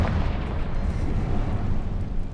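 A Confringo blasting spell explodes in the Hogwarts Legacy video game, a loud dense boom that rolls into a sustained low rumble with no speech over it.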